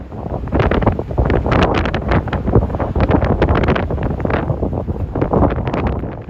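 Blustery wind gusts buffet the microphone beside railroad tracks near a sharp curve at a road crossing, a loud, continuous roaring rumble that rises and falls in strong waves throughout, with no other sounds standing out.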